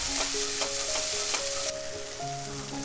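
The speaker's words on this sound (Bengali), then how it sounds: "ভালো করে যখন কষা হয়ে যাবে মশলাটা" Spice paste for a vegetarian chhana curry sizzles steadily in a pan, with occasional scrapes and clinks of the spoon as it is stirred; a soft background tone hums throughout, and no one speaks.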